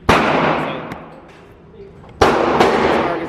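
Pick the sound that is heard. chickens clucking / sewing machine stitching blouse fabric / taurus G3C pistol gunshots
taurus G3C pistol gunshots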